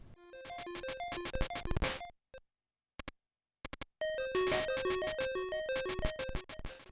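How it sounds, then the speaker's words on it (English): Rapid bursts of small, tinny gunshot pops from Oddworld Adventures on Game Boy, each with a bright ringing tone, in dense volleys separated by a short quiet gap. "They sound like they're shooting bottle caps at you or something"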